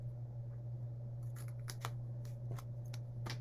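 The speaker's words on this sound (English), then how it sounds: "Then we're going to cut off this little tab completely." Scissors make a few quick, close snips cutting off a small tab, the crisp cuts spaced irregularly over a steady low hum.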